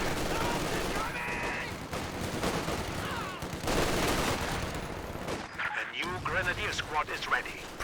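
Machine gun fire in a 4v4 Company of Heroes 2 battle crowded with artillery: dense, overlapping rattling bursts and booms run throughout at steady loudness, with a busier stretch of shots toward the end.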